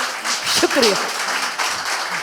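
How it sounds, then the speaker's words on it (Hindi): An audience at the Jashn-e-Adab 2023 literature festival claps in a steady, moderately loud patter, with a voice speaking briefly over it. "अगर आप मेरी बात से सहमत हो तालियां भी बजा सकते हैं।"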